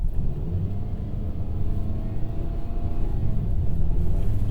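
A Ford Maverick pickup accelerating hard with stability control on and a little wheel spin, a steady loud engine rumble and road roar that swell slightly over the few seconds, heard from inside, without talk.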